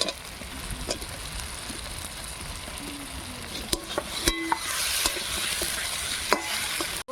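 Potatoes tipped into a frying masala of salt and turmeric for a katla fish curry, then stirred: a steady sizzle broken by spoon scrapes and clinks, growing louder and brighter once the potatoes go in.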